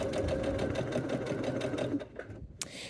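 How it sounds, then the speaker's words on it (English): Britannia sewing machine stitching over a thick seam of layered French terry, a rapid steady mechanical chatter of needle strokes close up, slowing and stopping near the end with a final clack. "as your machine starts to sew up to the big kind of hill"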